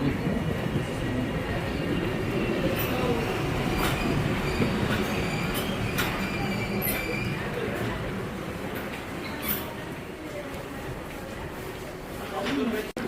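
A train rumbles steadily past in a European station in Genoa, Italy, with clattering wheels and metallic squeals, while voices murmur underneath; the noise eases slightly toward the end.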